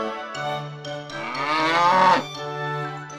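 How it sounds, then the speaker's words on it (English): A cow gives one long, loud, close moo that swells in the middle and fades out, with faint musical tones underneath. "Cow."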